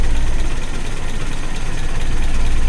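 A Toyota Kijang carburetor engine idles steadily at standard RPM, a continuous low rumble that stays even and close throughout with no voices.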